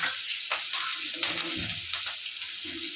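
Chopped onions fry in a hot oil tempering with hing for sambar, a steady close sizzle with some brief stirring scrapes over it.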